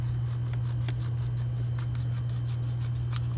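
Scissors cut through fabric for making ugly dolls, giving a series of quick, crisp snips in an uneven rhythm close up, over a steady low electrical hum, with no talking.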